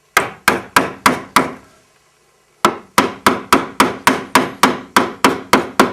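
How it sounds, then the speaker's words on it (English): A mallet strikes a chisel while a mortise is chopped in wood, sharp rhythmic wooden blows: five quick knocks, a short pause, then a steady run of about a dozen more, loud and close. "when you're cutting a mortise, you work from one end to the other"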